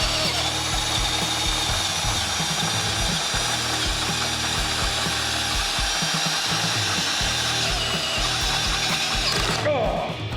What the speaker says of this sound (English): Now let's move on to drilling some holes in the shock mounts and welding some studs.